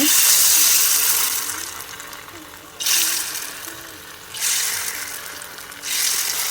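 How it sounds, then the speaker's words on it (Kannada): Coconut Manchurian balls coated in corn flour sizzle in hot oil, a loud, close, steady hiss that swells in waves as more pieces go in, with a person talking over it. "ಎಣ್ಣೆಗೆ ಹಾಕಿದ ಕೂಡಲೇ ಅದನ್ನು ಟಚ್ ಮಾಡಲಿಕ್ಕೆ ಹೋಗಬೇಡಿ"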